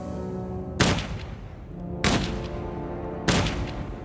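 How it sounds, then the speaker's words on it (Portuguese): Three sharp gunshots ring out about a second apart, each a loud crack with a short decaying tail, fired at a man in a dramatised scene of an SS execution during the Nazi purge. "Então atiraram nele 3 vezes no peito e 1 vez na cabeça."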